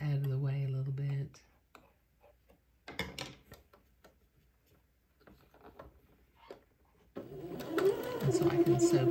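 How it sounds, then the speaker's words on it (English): A sewing machine stitches a Christmas bishop dress, its motor humming in a short steady burst at the start, then quiet handling sounds, then a longer run near the end. "So I can sew past them."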